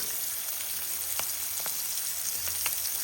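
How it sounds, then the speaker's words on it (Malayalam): Sardines sizzle in a hot pan on a home stove, a continuous bright crackle with occasional sharper pops and spits, steady and close. "മീൻ ഇപ്പുറത്ത് ഞാൻ പൊരിക്കാൻ വെച്ചിട്ടുണ്ട്"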